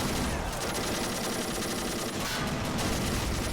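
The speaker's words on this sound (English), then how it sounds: "Maybe it's the suppressive fire from a large amount of troops firing all at once" Massed troops fire rifles and machine guns all at once in a war video game, a dense, continuous, loud crackle of overlapping gunfire with no gaps and no talk.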